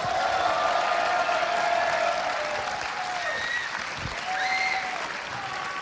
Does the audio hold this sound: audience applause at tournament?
yes